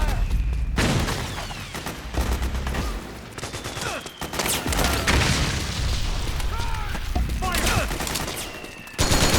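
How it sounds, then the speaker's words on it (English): Dense gunfire in the video game Metal Gear Solid 4, sustained bursts of automatic fire with heavy booms and ricochet-like whistles, loud and continuous before stopping abruptly near the end. "Suppressing fire!"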